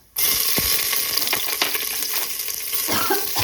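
Whole cumin, two green chillies and ginger drop into hot oil beside a bay leaf, bursting into a loud, steady sizzle that continues for several seconds, with a few faint scrapes of stirring.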